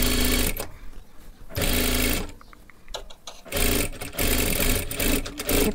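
A sewing machine runs in bursts, double-stitching a katori blouse. Loud, close machine runs are separated by short pauses, with no one speaking.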